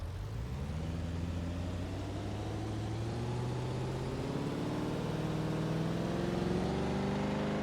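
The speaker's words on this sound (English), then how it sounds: "This is quite literally the definition of what a pulling tractor sounds like" A heavy old pulling tractor engine idles with a deep, rumbling throb, its pitch slowly climbing as it revs steadily, loud and close, with no voices.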